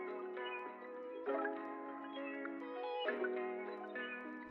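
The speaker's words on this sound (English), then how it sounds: "it's just a cat doing its own thing" A cat's drawn-out, tonal meows come in about four long, close, clear calls with brief breaks between them and no other sounds around.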